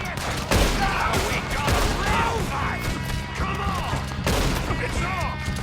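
Rapid gunfire erupting in a camp shootout in Red Dead Redemption 2, dense overlapping shots and crashes in close succession, with shouting voices mixed throughout.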